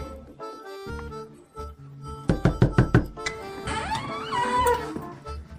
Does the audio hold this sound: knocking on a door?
yes